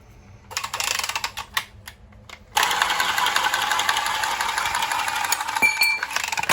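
A pipe being cut to length during a burst-pipe repair with a Milwaukee ProPress setup: a short burst of close mechanical cutting noise, then a steady, louder grinding rasp that runs to the end without talk.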